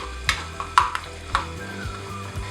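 Chopped almonds roast in hot ghee for shahi tukda, a low, steady sizzle broken by a few sharp clinks and scrapes of a spoon stirring in the pan.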